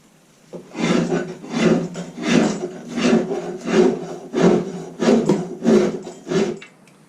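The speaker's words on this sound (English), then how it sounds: "Same thing with the rasp side on wood. You could remove a lot of wood quick with this." A hand rasp filing a wooden handle for a Snow and Nealley Maine wedge, about nine rhythmic rough scraping strokes in quick succession, close and fairly loud with short pauses between strokes.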